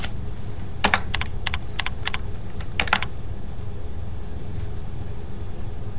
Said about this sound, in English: So if I type in xclock,